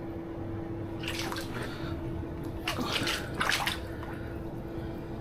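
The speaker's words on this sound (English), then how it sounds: "it's actually pushing water around the threads" Water sprays and hisses around the threads of a temporary sump pump pipe fitting in a flooding basement, with short bursts of splashing over a low, steady hum.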